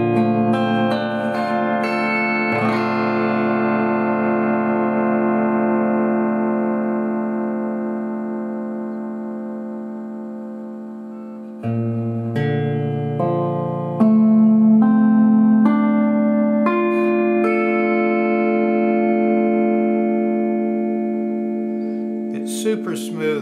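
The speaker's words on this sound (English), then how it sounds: "I'm just playing straight into my little Roland amp, no reverb or anything" Eight-string lap steel guitar, a 2014 KOA 001 played with a bar straight into a small Roland amp with no reverb, sounds smooth sustained sliding chords and notes that ring on and shift pitch in a steady, close phrase.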